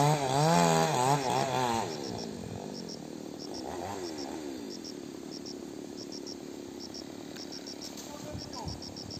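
Chainsaw working on a big tree among durian trees, revving loudly with swooping pitch early on, then settling into a steady running drone while a man calls out over it.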